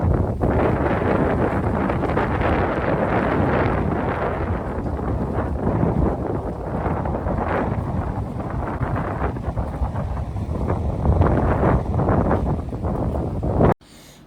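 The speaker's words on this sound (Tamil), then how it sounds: "எவ்வளோ காற்று சவுண்டு கேட்குது பார்த்தீங்களா?" Strong wind gusting near a hidden waterfall in the hills of Kodaikanal, a loud continuous roar buffeting the microphone for the whole stretch, steady with slight swells, no voices.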